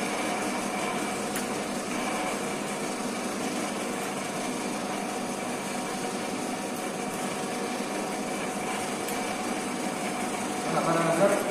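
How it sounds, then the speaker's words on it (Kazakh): A screw-cutting lathe runs with its lead screw turning, giving a steady, even mechanical whir and hum that holds throughout with no breaks, rising slightly at the end. "Бұл жерде бұрама винт жұмыс істеп тұр."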